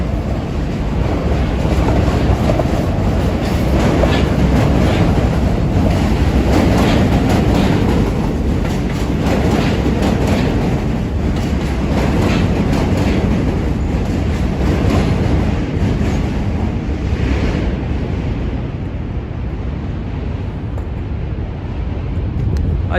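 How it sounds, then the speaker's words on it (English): An NYC subway train rumbles across the Manhattan Bridge at night, a loud, steady roar with rattling clatter that lasts throughout and eases slightly near the end. "you guys can see the subway coming right to the left"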